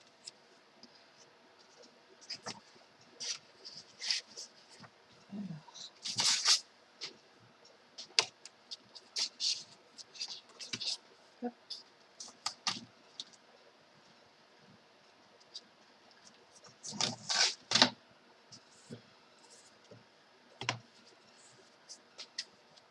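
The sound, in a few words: electronic craft cutting machine cutting paper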